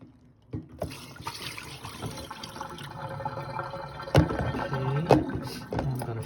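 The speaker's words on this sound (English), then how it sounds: "I just want you to see this water before I pour it out." Sea moss rinse water is poured out of a container, a continuous splashing, gurgling flow with a couple of louder sloshes and drips near the microphone, no talk.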